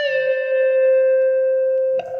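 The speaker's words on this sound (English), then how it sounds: "you bend it before you pick it, and then you release the bend, so it sounds like this" A single electric guitar note, bent before picking and then released, sustains cleanly and slowly drops in pitch before a brief pick noise at the end, the phrase from a song's solo.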